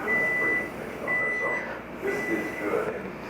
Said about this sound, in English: my timer's going off now